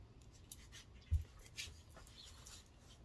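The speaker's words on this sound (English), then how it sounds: "And here again was my little puppy sleeping." A sleeping puppy makes soft panting breaths and faint whimpers, very quiet and close, with a small thump partway through and no talking.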